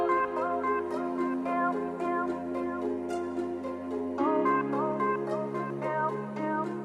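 A recording of Mozart's Flute Concerto No. 2 plays steadily, with sustained orchestral tones and a clear melodic line, quiet and even throughout with no voices.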